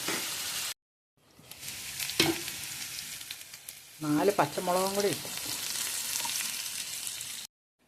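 Banana stem sautés in a pan with salt, curry leaves and green chilies for a Kerala varutharachathu curry, giving a steady close sizzle and frying hiss throughout, briefly cut off once, while a person speaks over it partway through.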